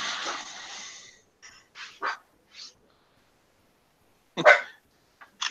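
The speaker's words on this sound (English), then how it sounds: "Ain't nothing to bark at." A dog barks several times in short, separate bursts, close and fairly loud, with one sharper bark near the end; no talking over it.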